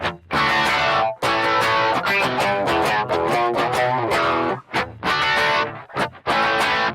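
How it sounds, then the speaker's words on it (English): An electric guitar plays loud, distorted rock chords, thickened by a detune doubler effect that layers the tone, ringing out in short phrases with brief gaps. "I'm going to add in what's called the detune doubler."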